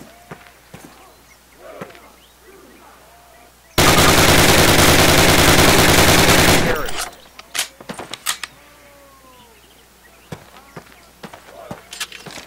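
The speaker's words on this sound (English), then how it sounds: "Fire three more rounds at your target." Rapid rifle fire on a Call of Duty training range, a dense loud burst lasting about three seconds, followed by scattered clicks and handling noises and a few quieter shots.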